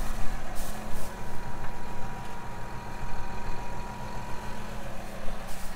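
A tractor engine idles steadily in a hay field, a continuous low rumble held close by with faint wind-like hiss above it, no voices.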